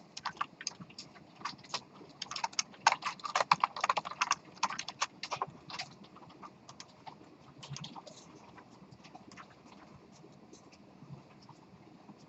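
Rapid clicking of keys on a computer keyboard while coding a Python file during an exam review class, dense and close at first, then thinning to lighter, sparser taps over a low room hum.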